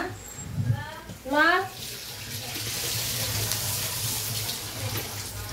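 Water poured into a pot of meat and masala while biryani is being cooked, a steady rushing splash that runs continuously after a brief voice at the start.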